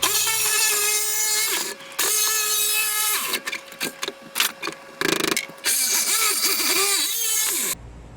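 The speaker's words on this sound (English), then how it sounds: "I just cut it down with a Sawzall." A Sawzall reciprocating saw chatters in loud, close bursts while cutting through a metal rear seat bracket, with rapid buzzing strokes interrupted by several short stops and restarts before it falls silent.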